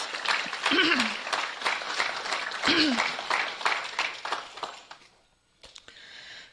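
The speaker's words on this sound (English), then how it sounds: "Please give a round of applause" Audience applause at the Gateway Foundation's annual Hall of Fame ceremony, a steady wash of clapping with voices over it, fading out near the end before a brief, quieter burst.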